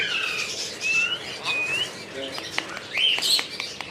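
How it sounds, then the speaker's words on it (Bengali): A pet lory parrot at a bird farm gives a series of shrill whistled calls and chirps, close and fairly loud, with some faint background noise between the calls. "লরি মিঠু হ্যাঁ কথা বলতেছে"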